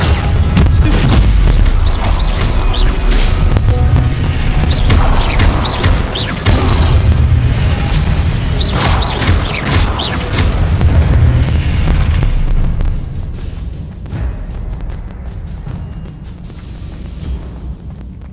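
A Confringo spell blasts in Hogwarts Legacy, loud booming explosions rumbling repeatedly for about twelve seconds before tapering into quieter debris and ambience.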